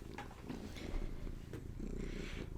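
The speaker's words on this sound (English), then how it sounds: "You can probably hear the kitty cat purring." A house cat purrs in a continuous low, rumbling drone with soft rhythmic pulses of breath, close and steady throughout with faint indoor noise above it.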